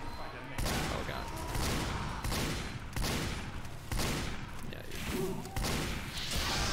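Rapid repeated gunfire in the team shooter game Team Fortress 2, loud bursts of shots pulsing roughly every second, with the player talking over the action.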